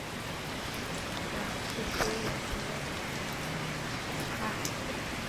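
Steady heavy rainfall in a bus simulator video game, a constant dense hiss of drops on a surface, with a few faint chirps and clicks over it.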